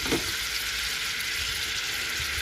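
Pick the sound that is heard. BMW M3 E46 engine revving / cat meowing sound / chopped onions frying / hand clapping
chopped onions frying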